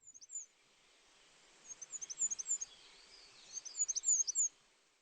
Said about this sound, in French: que les oiseaux pépillent encore